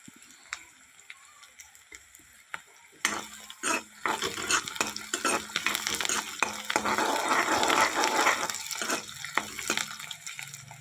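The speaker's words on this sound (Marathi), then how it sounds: "कांदा शिजल्यानंतर मी मिरची पण टाकून घेतली होती" Onion and green chili frying in a pan, with scattered spoon clicks at first, then a sharp surge of close sizzling joined by repeated scraping stirs and utensil knocks against the pan.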